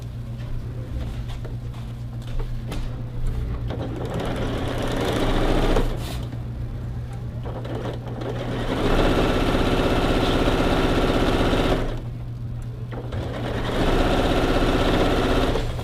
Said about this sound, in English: Okay, so 1 pin there and another right here, and then we're just going to sew.